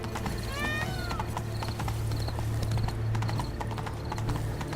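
A horse in The Witcher 3 whinnies briefly near the start, followed by a steady run of clip-clopping hoofbeats at close range, with no talking.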